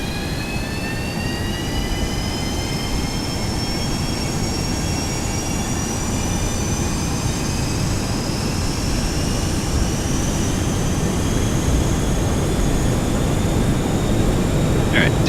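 Jet engines of a Boeing 737-200 in the X-Plane 11 flight simulator spool up for takeoff, a loud steady roar with rising whining tones climbing slowly throughout, continuous and close.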